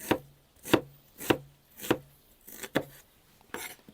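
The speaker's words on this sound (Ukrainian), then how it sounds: "Цибулю рубаємо отак півкільцями, як на плов." Onion being chopped into half-rings with a knife on a board, about seven crisp, close knocks in a steady rhythm roughly every half second, with quiet gaps between strokes.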